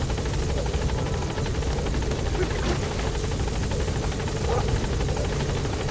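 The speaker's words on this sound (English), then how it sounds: "How badass our chopper is." A helicopter in the video game Metal Gear Solid V: The Phantom Pain gives a loud, steady rotor drone that holds evenly throughout with no voices over it.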